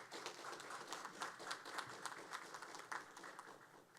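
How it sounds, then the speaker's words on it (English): Applause from a crowd at a police academy graduation, a dense patter of many hands clapping steadily at a distance, fairly soft and continuous throughout. "Please give your loved ones a round of applause."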